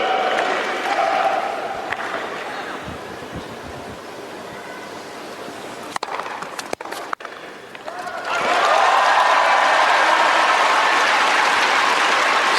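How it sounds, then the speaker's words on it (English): A pro-Russian crowd at a women's tennis final in Moscow roars and applauds, a broad wash of cheering that swells loudly near the end after a quieter stretch with a few sharp claps. "So something for this pro-Russian crowd to cheer about."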